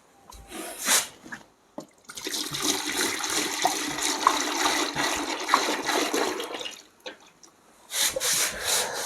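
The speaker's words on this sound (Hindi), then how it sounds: "अब हम लोग इसमें क्या डीपी ऑयल 2 kg डालेंगे" Two kilograms of DP oil pour into a bucket for mixing agarbatti perfume: a steady, rushing gush that runs for about five seconds, with brief handling sounds before and after.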